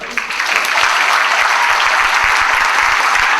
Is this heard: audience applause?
yes